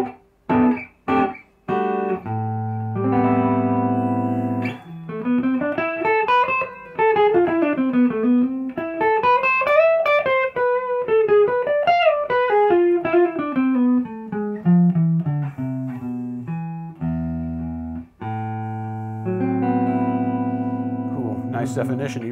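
A Rickenbacker 360 electric guitar on its neck pickup with light distortion plays chords and then rising and falling melodic runs. The notes are clear and ringing, with short gaps between phrases and a final strummed passage.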